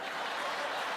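A brief burst of studio audience applause on a comedy stage show, dense hand clapping heard alone for about a second.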